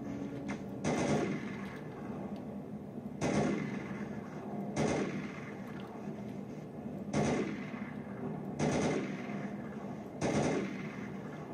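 M4A1 assault rifle fire in a Half-Life mod, six loud single shots spaced about two seconds apart, each with a short ringing tail.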